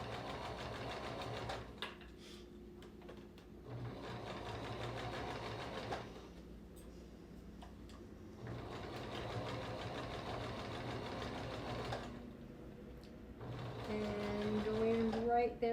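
A sewing machine stitches a quarter-inch seam around the ankle opening of a slipper, running in several steady bursts of whirring with short pauses between, quiet and close, while a person talks over it.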